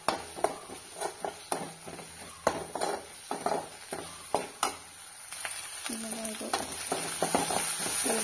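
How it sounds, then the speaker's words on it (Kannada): Onions with ginger garlic paste frying in a pan, a continuous sizzle broken by repeated scraping stirs of a spatula, with a voice speaking briefly. "ಈರುಳ್ಳಿ ಫ್ರೈ ಆಗಿದೆ"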